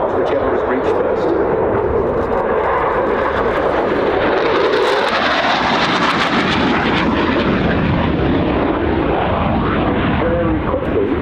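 A military jet roars through a high-speed pass at the Royal International Air Tattoo airshow, a loud, continuous broadband engine rumble that swells and shifts in pitch as it sweeps by.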